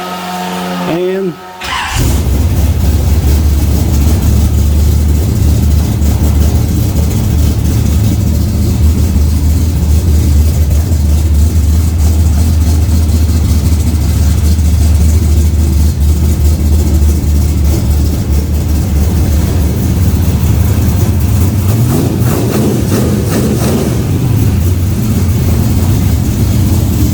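Carbureted engine in an 86 Chevy fires up after a brief cranking burst and settles into a steady, loud, low idle that runs on without letup.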